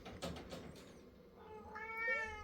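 A calico or ginger cat gives one drawn-out, rising meow up close, preceded by a few soft scuffling knocks.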